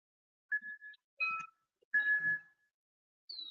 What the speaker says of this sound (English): You can hear my wind chimes though.